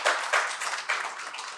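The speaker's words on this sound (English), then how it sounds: "I think you all need to deserve the big round of applause to them" Audience at a women's leadership panel discussion at a business summit claps in a brief, bright burst, a quick cluster of hand claps fairly close and loud, with no talking.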